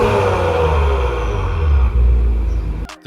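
A 2023 Acura TLX Type S sedan's quad exhaust rumbles deep and loud close by, a throaty revving drone holding steady before cutting off abruptly at the end.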